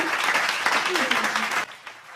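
Clapping from a group of people runs under an overlapping voice, steady and moderately loud, then drops away abruptly near the end.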